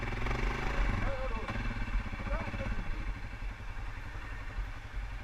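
An ATV engine runs steadily with a low, rumbling throb and some mechanical clatter, close and fairly loud, while voices talk briefly over it.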